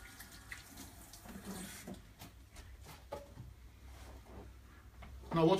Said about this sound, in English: I'm just going to wash my hands quickly